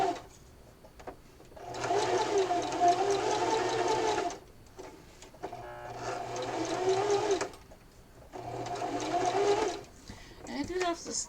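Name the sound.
sewing machine sewing a pillow, pivoting at corner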